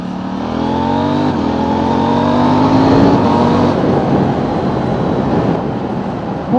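A KTM 790 motorcycle fitted with an Akrapovic exhaust revs and accelerates away, a loud, close, rising engine note climbing through the gears before easing off, with no talk.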